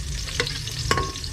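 Ingredients for a pork rib calderita are sautéed in a small home kitchen, with a steady close sizzle and two quick stirring scrapes of a utensil in the pan.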